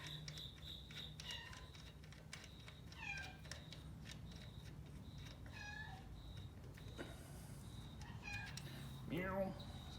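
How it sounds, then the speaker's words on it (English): Repeated cat meows, several short calls scattered over steady background noise, fairly close but not loud. "the cat's in here going super crazy"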